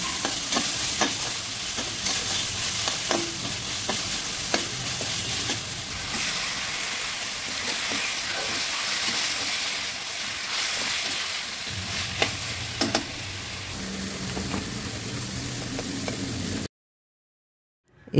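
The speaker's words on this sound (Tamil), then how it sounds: "1-3 கத்திரிக்காய், 1 முருங்கைக்காய் இதையும் நல்லா இதோட வணக்கிக்கிட்டு கொஞ்சம் உப்பும்" Brinjal and drumstick sautéing with onion, tomato and ginger garlic in a pan, a continuous sizzle with repeated spoon stirring and scraping clicks, close up, ending in brief silence.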